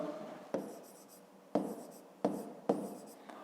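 A pen writes by hand during a fifth-grade maths exercise, four short scratchy strokes each starting with a sharp tap and trailing off, close and fairly quiet.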